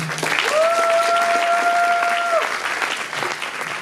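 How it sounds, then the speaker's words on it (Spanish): Loud audience applause and crowd noise welcoming a singer at a women's festival concert in Valencia, dense and sustained throughout, with a steady electronic tone briefly ringing over the clapping. "Vamos a recibirla con un fuerte aplauso."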